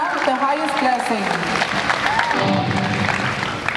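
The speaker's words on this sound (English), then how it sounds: "let's just give a round of applause" Audience applause for the act Reaching Jhana, a dense steady wash of clapping with voices and some tonal sound carrying over it throughout.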